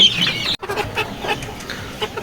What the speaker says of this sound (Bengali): আরও ছয়টা মুরগি একটা মোরগ